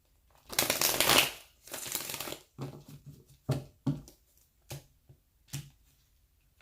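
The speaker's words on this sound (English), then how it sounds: "Let me shuffle these really quick for you guys." Tarot cards being shuffled up close, a long riffling burst followed by several short, crisp shuffles and taps with quiet gaps between them.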